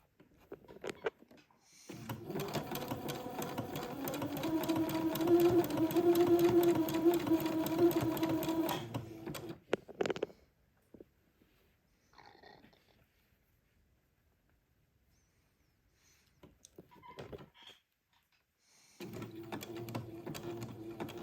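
A sewing machine zigzag-stitches lace in a long, fast, whirring run, pauses for quiet handling sounds, then starts stitching again near the end.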